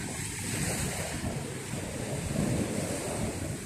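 Steady wind buffeting the microphone over continuous sea surf and waves, loud and unbroken throughout, with no voices.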